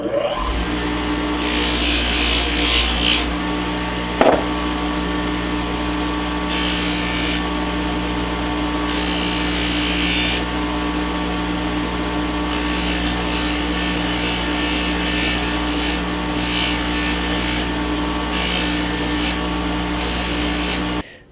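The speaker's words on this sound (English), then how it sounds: "we're just going to give it a little buffing" Stabilized wood knife scales for a Boker Gentleman knife are pressed against a buffing wheel, making a continuous motor drone with a rough, rubbing hiss that swells and fades in bursts. One sharp knock comes partway through.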